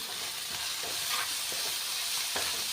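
Stirring carrot and potato sabji in a pan just after coriander, fenugreek and turmeric go in, with a steady soft sizzle of frying and a few scraping strokes of the spoon, close and quiet, with no talking.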